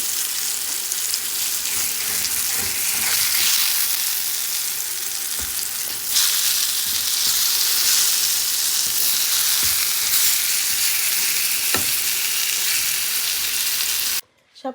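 Steady, loud sizzling of eggplant slices frying in hot oil, with occasional scraping stirs, continuing throughout before cutting off abruptly at the end.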